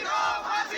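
Crowd of lawyers protesting at Saket court, a dense wall of raised, shouting voices that stays loud and continuous through the brief moment.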